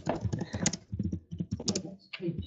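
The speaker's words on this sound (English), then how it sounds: "Or someone is typing." Keys clatter on a computer keyboard in quick bursts of clicks during an online webinar chat, with brief gaps between the runs of typing.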